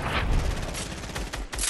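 Rapid bursts of gunfire in a video game, a dense crackling fusillade of shots played back at moderate level with no voices.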